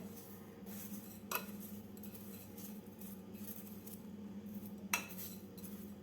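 Sugar being mixed into amla pieces in a bowl comes through as quiet, close scraping and stirring, with two sharp clinks of a utensil against the bowl over faint room hum.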